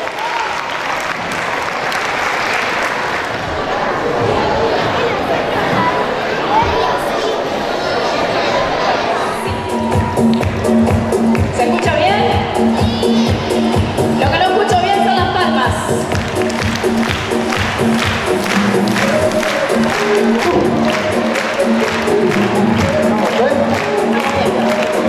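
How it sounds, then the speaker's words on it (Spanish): An audience at a children's day celebration at a school and daycare claps loudly and steadily, dense applause with some crowd chatter that swells into a strong, sustained ovation. "Fuerte el aplauso"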